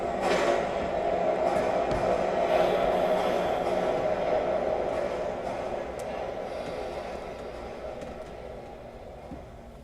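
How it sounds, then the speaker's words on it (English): A downtown 1 subway train approaches a station platform as a steady, loud rumble that fills the scene and slowly fades, under a muffled announcement and talk. "There is a downtown 1 train approaching the station."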